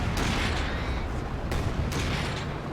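Artillery fire in Company of Heroes 2, a steady loud wash of battlefield rumble punctuated by a few sharp blasts, continuous and dense throughout.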